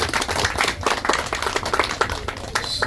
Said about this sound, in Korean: 박수 한번 보내주시면 감사하겠습니다